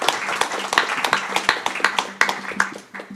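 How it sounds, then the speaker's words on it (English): An audience applauds a pitch team with steady, dense clapping, loud and close, sharp individual claps rising above a continuous rattle of hands, with no voices. "So big applause for Lexa Texer."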